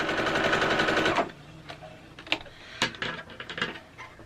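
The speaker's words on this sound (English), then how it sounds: "I'm going to be sewing that seam there. I'm going to start at the top, and it's going to be 1/4 inch." A sewing machine stitches a quarter-inch quilt seam, a rapid rattling run of needle strokes for about a second before stopping, followed by scattered clicks and light handling knocks.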